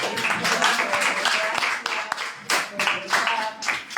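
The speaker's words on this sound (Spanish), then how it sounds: "vamos a darles un aplauso" Applause from an audience, a dense patter of clapping hands that swells and fades over a few seconds, with voices mixed in.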